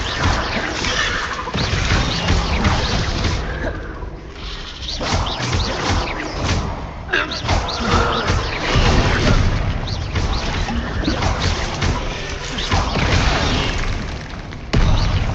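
Bombarda and Confringo spell blasts in Hogwarts Legacy, a rapid string of loud, bright booms and crashes fired in quick succession through a chaotic duel, close and forceful with little pause between impacts.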